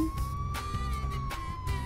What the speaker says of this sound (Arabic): أقود سيارة مع صفارات الإنذار